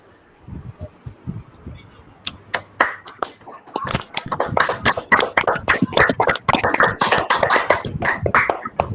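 Audience applause at a magazine launch event: quiet scattered claps at first, then building into dense, loud clapping from the crowd that keeps going.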